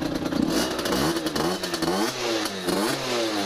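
A Derbi motorcycle engine fitted with a KRM kill switch idling close by, a lumpy, warbling putter with uneven pulses and faint clatter, never revved.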